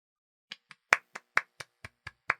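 Hand clapping, about nine crisp claps at a slightly irregular, moderate pace, close and clear against silence.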